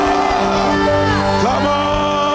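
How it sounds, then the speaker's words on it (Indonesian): A church congregation at a special worship service cheers and shouts loudly, with sustained whoops and yells blending into a dense crowd roar. No distinct clapping stands out. "Kamu sekali lagi kasih tepuk tangan yang kuat."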